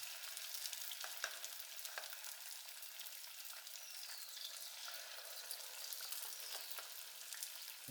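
Banana fritters (pazham pori) frying in coconut oil in a home pan, a steady close hiss and sizzle with faint crackles running throughout, no talk.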